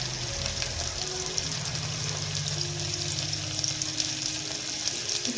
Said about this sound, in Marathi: कांदा पण होऊ देणार छान आणि सोबतच मिरची पण टाकून देते आणि कढीपत्ता.